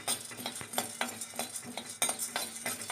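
A spoon stirs and scrapes ingredients that are being lightly dry-roasted in a pan for homemade Horlicks. The metallic strokes come close and steady in a regular rhythm, with soft clinks against the pan and no voices.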